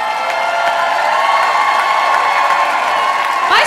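A stadium crowd of about 7000 at an open-air concert event in Klagenfurt cheers and screams continuously, a loud, dense roar with whoops rising near the end.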